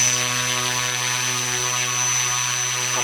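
Propeller motor spinning at 40% throttle on a balancing rig, a loud steady buzzing hum with a constant pitch that holds unchanged for the whole stretch, close by and without talk.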